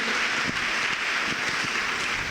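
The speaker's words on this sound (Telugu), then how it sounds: "గట్టిగా గట్టిగా చప్పట్లు కొట్టండి" A church congregation claps loudly together during a service, a dense, even patter of many hands lasting a couple of seconds with no voices over it.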